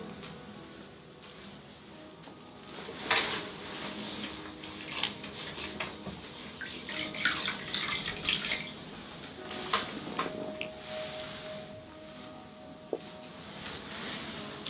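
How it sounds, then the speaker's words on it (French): Water running and splashing as a chemical lightening peel is rinsed off a client's skin during a facial treatment, a soft steady flow with louder splashy bursts and a faint tone near the end. "Nous allons rincer le peeling"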